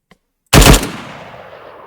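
A vehicle-mounted machine gun in the Arma 3 video game fires one sharp, loud burst that rings out and decays into a lingering echo.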